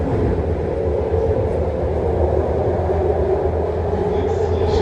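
A six-car BART Green Line train departs Montgomery Street Station in San Francisco, giving a loud, continuous rumble and whine from up close that holds steady throughout.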